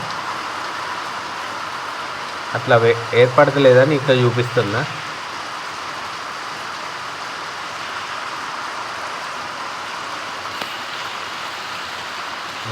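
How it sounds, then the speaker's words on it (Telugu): Steady rain hisses and patters on a sheet-metal roof throughout, with someone talking briefly near the start. "చూడండి వర్షం సౌండ్"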